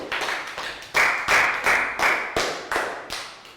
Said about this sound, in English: Round of applause for Lakau.